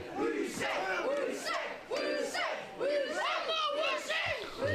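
A wrestling crowd loudly chanting together in repeated rhythmic shouted phrases at Zak Zodiac during a match against Jason Detroit, close and sustained.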